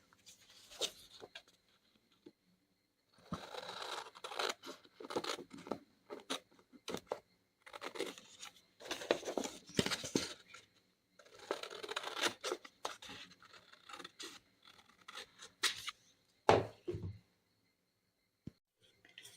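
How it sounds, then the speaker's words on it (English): Scissors cut paper journal card designs in quiet, intermittent bursts of snipping and crisp paper rustle, close up, separated by silent pauses. "we are going to cut these designs so we can make our journal cards"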